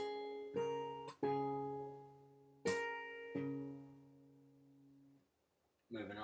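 An acoustic guitar played fingerstyle, with sharp slapped attacks followed by plucked open strings that ring out in long sustained notes. There are four distinct struck chords with gaps between them, then silence and a short bit of talk at the end.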